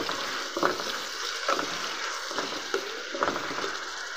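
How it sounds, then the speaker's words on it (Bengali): Onions and green chilies frying in oil hiss continuously nearby, with four or five evenly spaced stirring strokes scraping through the pan. "এই যে পেঁয়াজ মরিচটা আমি ভেজে নিচ্ছি"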